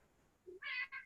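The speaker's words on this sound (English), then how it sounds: "now the cat is crying" A cat meows indoors, a faint short call followed by two clear, close meows in quick succession against a quiet room.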